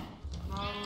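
A sheep bleats in Minecraft, a single short wavering bleat, close and moderately loud, with faint background noise.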